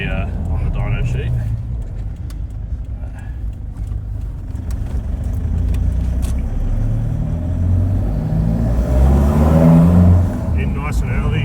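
A Toyota Hilux 1KD diesel engine with +30 injectors and a stock tune runs on a dyno, with a deep, loud drone that builds and swells near the end. Voices talk over it.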